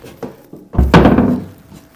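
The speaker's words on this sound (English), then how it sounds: "Door don't want to shut good," A household door being shut during a laundry room remodel, a door that doesn't close well and needs a new hinge; one loud, close thunk lands after a couple of faint knocks.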